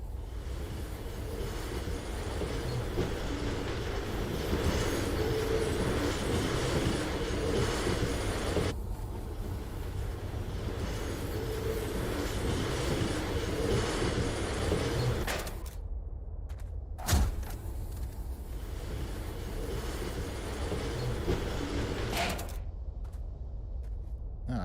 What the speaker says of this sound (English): Looks like another train.